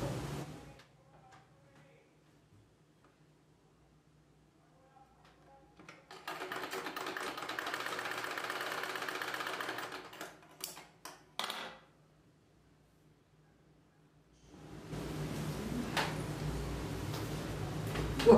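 A sewing machine stitching a collar neck blouse runs in two steady bursts of several seconds each, separated by a short pause with light handling clicks. Quiet room tone fills the gaps, and nobody speaks.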